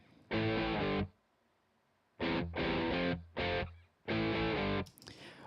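A mono, dry, unprocessed guitar part plays in several sustained chord bursts separated by short silences, close and clean with no effects.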